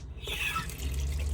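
Water gushing from a tap in an AutoTrail Mohican motorhome with the water pump running, a steady close rush starting abruptly over a low pump hum.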